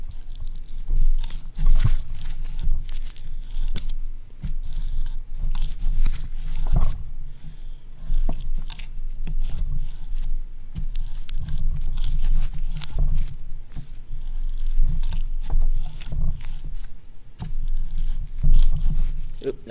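A drill bit grinds and chews through material on a magnet fishing rig, a rough uneven crunching and scraping that is loud and close, with a voice talking over it at times.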